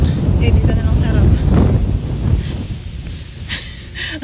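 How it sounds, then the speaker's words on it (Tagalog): A strong outdoor wind in Poland buffets the microphone with a heavy, rumbling roar that swells and eases. Faint higher sounds come through at times. "Ang lakas ng hangin, girl."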